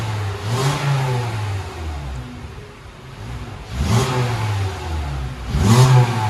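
A 2008 VW Rabbit with a 2.5L engine and muffler-delete exhaust revs up close by in several loud swelling bursts, dropping back toward a rumbling idle between them.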